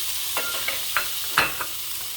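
Tomatoes, mushrooms and vegetables are stirred in a sizzling pan, with a steady hiss of frying broken by several light scraping knocks of the spatula.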